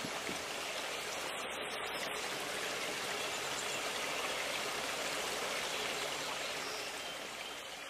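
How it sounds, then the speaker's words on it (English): A steady stream of flowing water rushes continuously at moderate level, a dense even wash with no talk over it. "Music Monica hears water."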